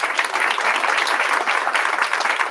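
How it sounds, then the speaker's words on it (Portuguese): A church congregation applauds, producing a steady, dense wash of many hands clapping together that holds evenly and fairly loudly without a break. "Você pode dar um aplauso a Jesus pela vida dos secretários?"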